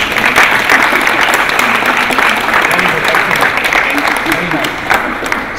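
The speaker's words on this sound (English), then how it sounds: "One more applause, please." Sustained audience applause fills the room at an art exhibition honouring Ukrainian culture, a dense, steady clatter of many hands from start to finish with a faint voice underneath.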